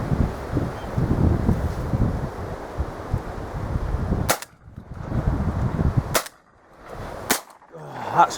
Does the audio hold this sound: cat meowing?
no